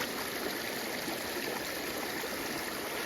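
Water pours through opened dam gates, a broad, steady rushing roar of fast-flowing current, constant and unbroken with no voices.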